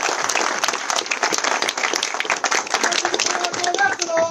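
Audience giving a minute of loud, sustained applause at a public gathering, thick continuous clapping with voices faintly audible underneath.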